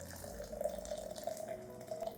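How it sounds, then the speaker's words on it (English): Boiling water running steadily from a kettle onto a tablespoon of powdered eggshell, a continuous close splashing pour with no voices. "Add it to 500 milliliters of boiling water."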